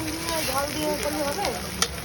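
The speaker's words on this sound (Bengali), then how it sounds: "কমপ্লিট এখন ভাজা দেখতে পাচ্ছ এখন নেমে যাবে কুদরি ভাজা" Ivy gourd (kundru) frying in a pan gives a dense, close sizzle with stirring scrapes, while voices talk over it and one sharp clink comes near the end.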